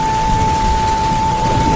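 A cartoon rainstorm in a village, with a steady, dense hiss of heavy rain throughout and a thin constant tone sitting over it. No distinct thunderclap stands out.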